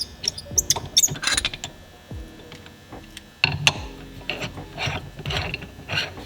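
A zip tie ratchets through its locking head in quick clicking bursts, close and crisp, with short pauses between pulls and a louder run near the end.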